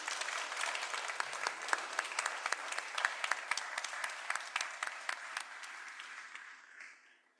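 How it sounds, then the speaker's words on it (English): Warm round of applause for a panel at a startup conference, a steady patter of many hands at moderate distance that gradually thins and fades out near the end. "give them a big round of applause"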